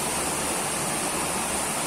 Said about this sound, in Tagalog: Konti pa lang ang reaksyon habang nagbabagsakan yung tubig.